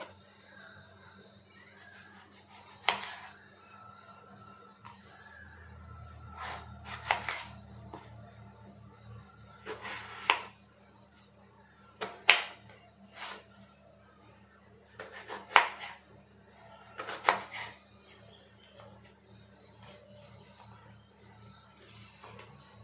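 A knife chops thorny brinjal (eggplant) on a board in a home kitchen. It makes a few sharp, scattered cuts and taps with quiet gaps between them, over a faint low hum, and no one talks.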